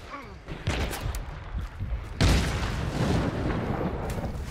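Gunfire in the multiplayer shooter Hunt: Showdown: a loud, booming shot cracks out midway and echoes into a lingering rumble, following a quieter, more muffled blast earlier.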